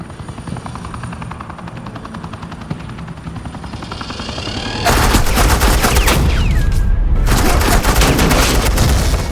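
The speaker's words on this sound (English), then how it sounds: "This is Agent Quinn, suppressing fire." Suppressing gunfire in the game Batman: The Enemy Within erupts as a dense, loud, continuous rattle of rapid shots, preceded by a helicopter-like whirring drone that builds up over several seconds.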